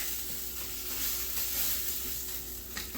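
Garlic butter chicken sizzling in a pan on low heat, a steady close hiss with occasional scraping strokes across the pan bottom, no voices.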